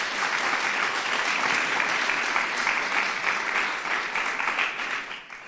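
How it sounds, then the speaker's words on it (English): A crowd applauds at a governor's event on pre-K funding in New Jersey, a steady wash of clapping that holds evenly and begins to thin near the end. "Shamelessly fishing for applause."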